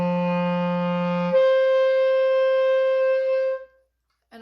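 A clarinet holds its lowest note, then jumps up into the higher register when the thumb tips over the register key while covering the hole. A single sustained tone slurs cleanly upward, played alone and close.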